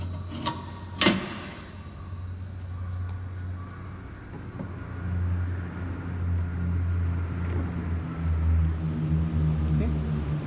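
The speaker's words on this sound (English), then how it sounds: "The motor has started. See, the motor is running." A DC motor in an electrical machines lab, switched on through a three-point starter, runs up with a steady low hum that strengthens and settles, after a couple of sharp clicks at the start.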